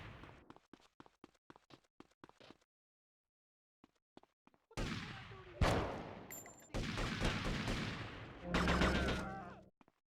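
Gunfire in the video game GTA: Vice City: a quick run of sharp separate shots at the start, a short lull, then loud sustained bursts of shooting that fill the rest.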